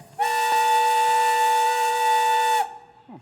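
A work whistle blows one steady, loud, sustained tone for over two seconds to signal the end of the day, then cuts off.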